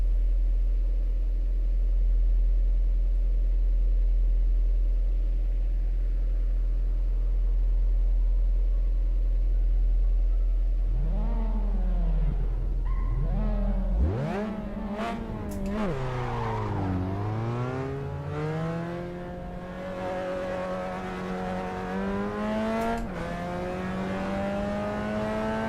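Racing simulator game car engine, a steady low drone at first, then revving with rising and falling pitch sweeps, shifts and sharp bursts, close and loud throughout with no talking.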